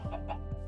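Minecraft chickens clucking, two or three short close clucks in quick succession, alone without talk.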